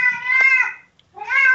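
A domestic cat meows twice, close and clear: a long drawn-out call, a brief silence, then a second meow rising in.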